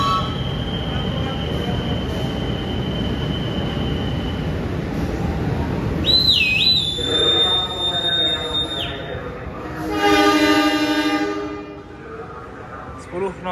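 KA Batavia economy train pulling out of Bekasi station, a steady heavy rumble of wheels and cars with high metallic squeals and ringing tones over the top, heard from on board at close range.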